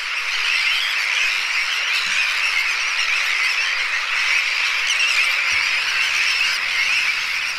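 A huge colony of terns and gulls, including Sandwich terns, black-headed gulls and Mediterranean gulls, calls in a dense, continuous high-pitched din from thousands of birds, steady and loud throughout with no pauses.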